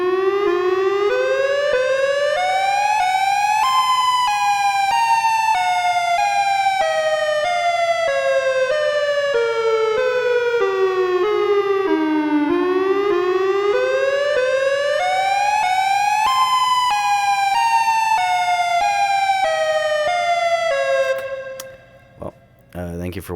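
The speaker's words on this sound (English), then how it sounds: "this is what it sounds like now with all the effects on it, and it sounds pretty cool. It sounds pretty creepy, and it sounds just like Siren Head." A synthetic Siren Head sound effect built with audio effects, a loud droning civil-defense-style siren whose layered tones sweep up and down in long, eerie glides, alone and continuous before cutting off abruptly at the end.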